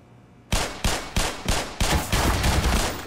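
Gunfire in the game Black Mesa: Xen, a series of loud, close shots at a steady pace, five distinct blasts followed by faster overlapping fire.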